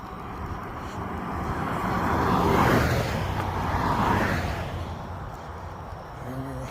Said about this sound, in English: A lot of traffic tonight.